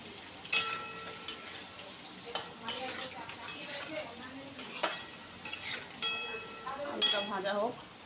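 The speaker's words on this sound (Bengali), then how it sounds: "আলুটা ভাজা হোক" Potatoes with turmeric frying in a pan: a soft sizzle broken by sharp metal clinks and scrapes of a spoon stirring, with a few quiet, indistinct words.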